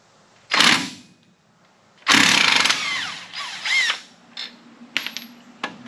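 Work on a caliper bracket bolt on a 2004 Dodge Ram 2500 during a brake job brings several sharp, close bursts of mechanical tool noise with brief gaps between them.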